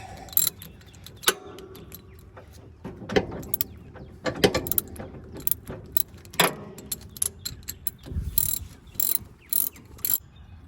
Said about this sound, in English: This works with a 13 millimeter ratchet.